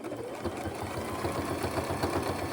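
A sewing machine stitches slowly along the edge of a zippered pouch, a close, steady rhythmic thumping of the needle mechanism running throughout.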